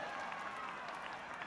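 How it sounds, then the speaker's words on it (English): Crowd applauding at a UCMMA 41 mixed martial arts event, steady dense clapping from many hands with an announcer talking over it. "Round of applause."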